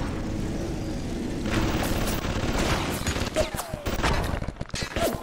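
Enemy gunfire in the Bioshock video game, rapid bursts of sharp shots crackling over a rumbling backdrop and growing denser toward the end, with people talking over it.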